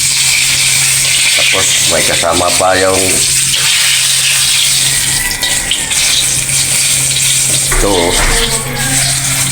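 Eggplant and okra frying in a pan for breakfast, giving a steady sizzle throughout while people talk over it, with brief clatters of cooking.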